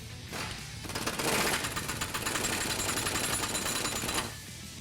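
An impact gun hammers loose a body mount nut on a Jeep Wrangler JK during a body lift install, giving one sustained rattling burst of about four seconds, loud and close, with no talking over it.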